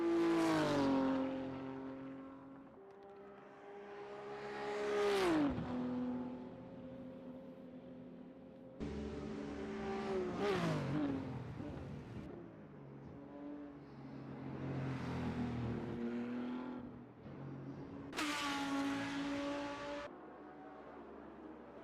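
Race cars circling the Interlagos track in a racing video game, engines rising in pitch as they accelerate past and then fading, with several distinct passes, fairly faint and with no talking.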